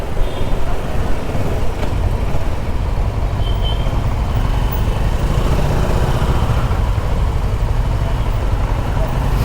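A 2020 Kawasaki Versys 650 motorcycle engine drones steadily while riding, with loud rumble and rushing wind noise that persists throughout.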